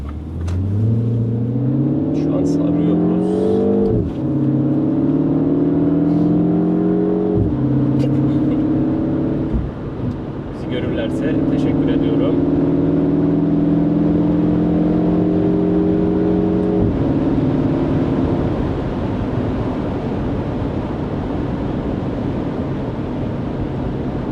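A MINI John Cooper Works revs hard through the gears from the cabin, engine pitch climbing repeatedly with sharp drops at each shift, loud and close, a voice briefly audible.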